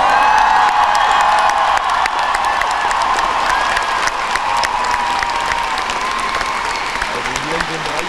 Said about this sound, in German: Einen kräftigen Applaus für das Team des Video Days!